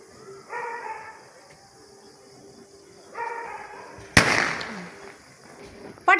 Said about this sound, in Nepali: मायु पटेका पड्क्यो आम्मै